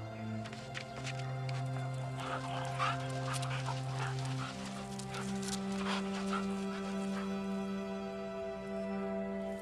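Chained dog whimpering and yelping during a tiger attack in the Russian wilderness, high distressed cries in a rapid irregular series, faint and distant over a steady low hum.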